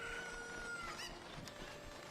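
A Cucco chicken in Ocarina of Time gives faint, brief clucks and squawks over a steady game background hum.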